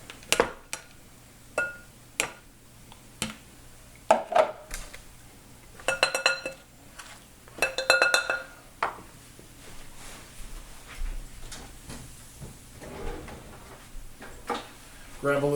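A steel blade is lifted out of a blender bowl in a home kitchen while a meal is made, giving a series of sharp clicks and clinks of metal and plastic at close range, spaced irregularly over quiet kitchen background.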